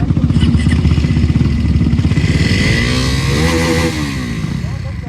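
A modified Xtreme 250R and a 2026 Pulsar NS400Z motorcycle in a drag race: a loud, close engine revs with a rising pitch through the gears, with people talking over it.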